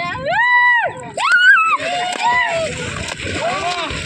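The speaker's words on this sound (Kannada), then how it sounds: "ಮಕ್ಕಳು ನದಿಗೆ ಬಂದು ಈಜು ಆಡ್ತಾ ಇದ್ದಾರೆ" Children shout and call out loudly close by while swimming in a river, their excited voices overlapping with faint water splashing in the background.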